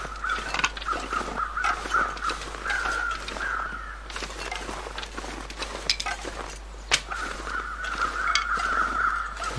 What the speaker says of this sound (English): Now there should be a deer here because I hear crows.